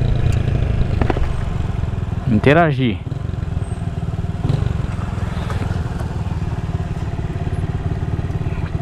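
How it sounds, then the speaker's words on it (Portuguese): A motorcycle engine rumbles steadily beneath people talking, with a short clattering burst partway through. "ouvir o ronco do motor"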